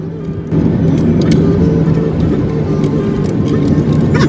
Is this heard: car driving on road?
yes